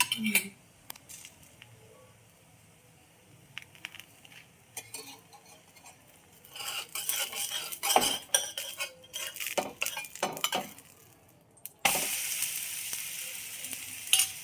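A thalipeeth fries in oil on a pan, with quiet clinks and scrapes of a spatula at first, then louder crackling and sizzling that bursts into a steady hiss as more oil is added on top, with some voices nearby.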